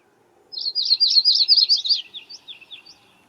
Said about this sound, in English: this is the female yellow-rumped warbler